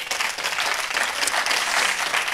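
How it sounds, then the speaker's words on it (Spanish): A church congregation bursts into dense, steady applause that fills the room evenly from start to finish, loud and sustained with no voices on top. "Dale un aplauso al Señor"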